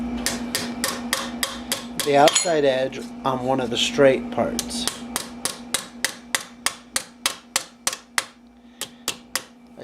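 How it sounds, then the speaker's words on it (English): Metal armour piece for a Milanese mitten gauntlet of about 1450 hammered on a flat-top, round-edged stake, a long run of sharp, evenly spaced ringing blows, near and loud, with someone talking over the middle stretch. "I place the piece down on the stake and I start hammering it,"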